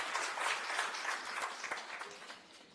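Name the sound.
audience applause at Miss Namibia launch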